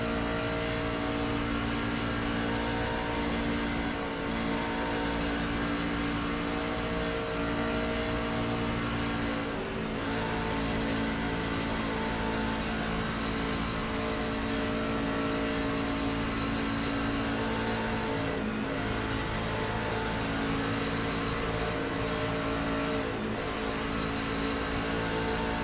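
Race cars lapping the Daytona oval in an iRacing sim, a steady dense drone of many engines running flat out with no let-up, droning on alone without talk.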